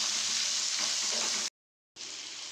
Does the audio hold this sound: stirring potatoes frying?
yes